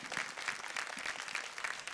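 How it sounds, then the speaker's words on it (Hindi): Studio audience applauding on a folk singing competition show, steady dense clapping throughout, fairly close and even in loudness. "क्या बात है, तालियां"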